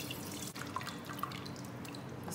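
Water drips and trickles steadily through a colander as blended garden eggs are strained for light soup, a soft, continuous close wet patter without any talk.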